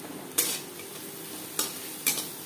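Onion frying in a pan with salt, turmeric, ginger-chilli paste and spices, a steady low sizzle broken by a few sharp scrapes of a spoon stirring, close and without talk.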